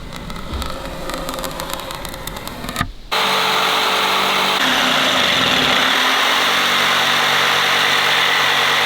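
A power saw cuts through a marked board: after a brief lead-in, a loud, steady motor drone starts abruptly and runs evenly for several seconds close up, with no voices.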